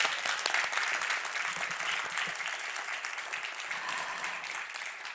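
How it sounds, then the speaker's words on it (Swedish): A crowd at a Swedish literary prize ceremony applauds the nominees, dense, even clapping across a large hall, heard at a moderate distance and sustained throughout with no talk over it. "en stor samlad applåd för alla nominerade"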